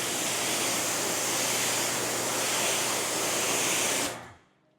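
Garden hose spraying a quick rinse over a ceramic-coated car, a loud, even hiss of water hitting paint that cuts off abruptly near the end.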